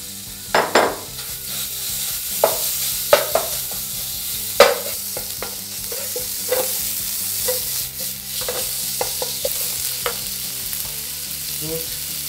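Pork and vegetables stir-fried in a pan, a steady close sizzle broken by irregular scraping and tossing strokes of a utensil, with no voices.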